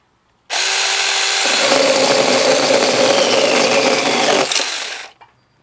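Tomyvic 6-inch mini chainsaw cutting through wood clamped in a vise: a loud, steady high-pitched motor whine with cutting rasp for about four and a half seconds, starting abruptly and stopping with a short tail.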